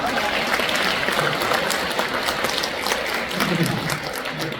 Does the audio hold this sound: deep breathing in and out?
no